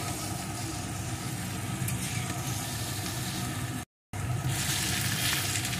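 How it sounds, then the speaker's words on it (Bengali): Okra and potato fry on high heat, a dense, even sizzle close by that runs on steadily apart from one brief cut to silence. "প্রথমে আঁচটা বাড়িয়ে নিয়ে 2-3 মিনিট ভেজে নেব"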